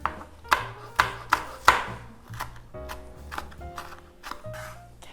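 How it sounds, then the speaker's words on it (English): A knife chops chilies on a cutting board in four loud, evenly spaced strokes, then lighter, quicker taps follow, close and alone without talk, while making Korean squid soup. "Let's chop the chilies"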